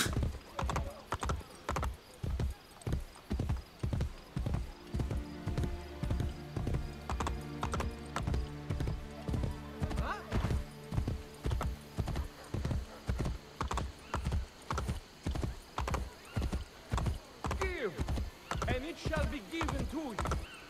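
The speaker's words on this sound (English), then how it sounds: "I guess I'm gonna ride over there by horse." Horse hooves clip-clop at a steady trotting rhythm as the horse is ridden in Assassin's Creed: Brotherhood. The regular thuds run throughout, close and clear, with game sounds and a brief whinny-like tone partway through.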